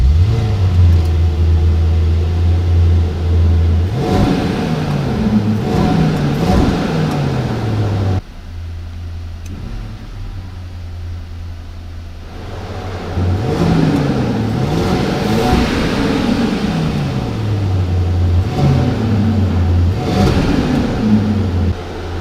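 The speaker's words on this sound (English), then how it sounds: "So let's start the engine." A 2020 Mercedes-Maybach GLS 600 engine running and being revved repeatedly, loud rising and falling surges with a quieter idle stretch in the middle, close and without talking.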